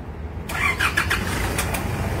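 A pickup truck engine, jump-started with a Yesper Mini jump starter, cranks briefly and catches, then settles into a steady, close idle rumble.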